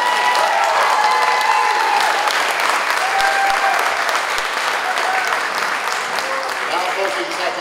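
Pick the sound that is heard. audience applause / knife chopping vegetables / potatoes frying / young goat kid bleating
audience applause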